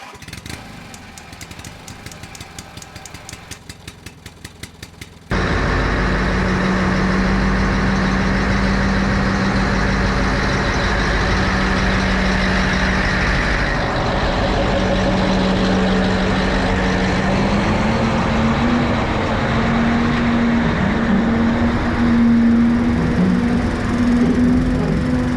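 A crane truck's engine runs loud and steady while it drives, a dense rumble that starts abruptly after a few seconds of lighter rattling, with a droning tone that rises slightly toward the end.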